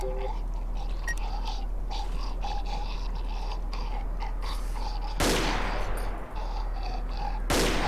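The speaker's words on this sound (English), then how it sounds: "So I just shoot him, see what happens." Gunfire in the horror video game Cry of Fear, with two sharp broadband shots standing out over a steady droning game ambience, one midway and one near the end.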